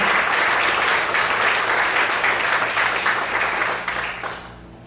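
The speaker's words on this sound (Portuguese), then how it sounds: "Vamos fazer as palmas também." A church congregation keeps up a thick round of clapping that holds steady for several seconds, then thins and fades out near the end.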